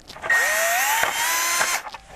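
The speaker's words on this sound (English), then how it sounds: "I'm going to drill center." A power drill whines up to speed and drills steadily for about two seconds, close and loud, enlarging a 1/8 inch hole for a Dzus fastener, then winds down.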